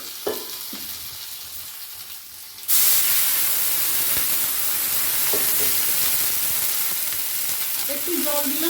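Spice paste mixed into shukto in a pan: a quiet sizzle with a few clinks, then a sudden loud burst of hissing frying that continues steadily, close up, with no talk.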